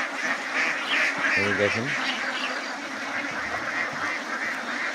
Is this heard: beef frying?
no